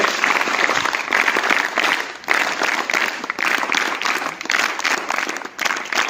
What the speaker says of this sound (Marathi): त्याबद्दल आपण सर्वांनी तीन टाळ्या अजून स्वागत करायचं आहे